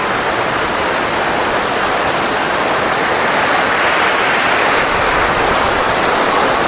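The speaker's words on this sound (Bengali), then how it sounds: "জলের প্রচণ্ড শব্দ হচ্ছে" Bamni Falls in the Ajodhya hills roars as a loud, steady wash of falling water, continuous and unbroken throughout with no voices over it.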